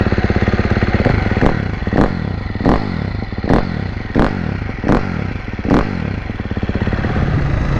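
A motorcycle engine warming up at idle with the throttle choke just released, a steady loud rumble close by, punctuated by regular thumping clatters roughly every three-quarters of a second.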